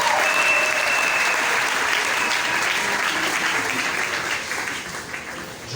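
A church congregation applauding and cheering for the Lord, loud dense clapping that fills the room from the start and gradually thins toward the end, with faint crowd voices mixed in.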